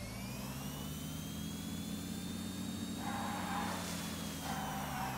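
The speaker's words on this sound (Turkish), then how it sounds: "Evet motorumuz böyle bir şey. Motor sağlammış baya." A motorcycle engine in the PUBG New State video game drones steadily with a low rumble and a rising whine, held at a constant level throughout and fairly faint.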